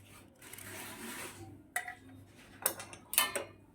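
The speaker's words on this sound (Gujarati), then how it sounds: "હવે એને મેં ધોઈને લીધેલી છે, તો આપણે સુધારી લઈશું" Raw green mangoes being cut and peeled with a knife in a kitchen for a homemade sharbat, giving soft scraping strokes followed by a few sharp clicks and taps of blade against plate, close and fairly quiet with no talking.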